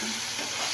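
Ground garam masala frying and being stirred in a pan for aloo matar pulao, a steady close sizzle with soft scraping throughout, no voices.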